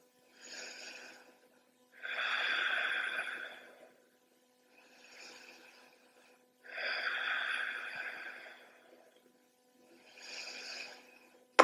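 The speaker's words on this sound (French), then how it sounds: "on prend 3 grandes respirations ici dans la poitrine" Three slow, deep breaths into the chest held in a yoga bridge pose, soft close airy inhales and exhales separated by quiet pauses.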